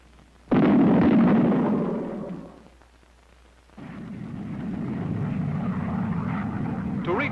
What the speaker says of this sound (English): The same sort of thing may happen with an aircraft flying at a steady speed above Mach 1, either transonic or, as here, supersonic.